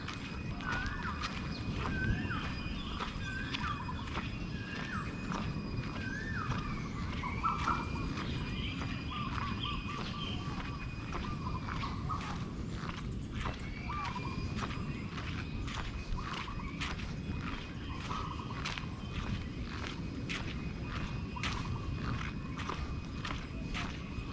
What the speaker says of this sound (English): you can listen to the sounds of the tropical birds